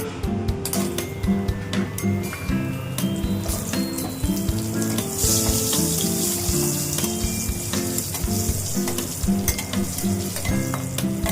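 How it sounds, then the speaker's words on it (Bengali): Sun-dried lentil bori dumplings fried in oil left from frying fish, giving a loud, dense sizzle with stirring sounds and occasional clinks, all under steady background music. "এবার আমি বড়িগুলো ভেজে নেবো, ওই তেলেই বড়িগুলো ভেজে নেবো।"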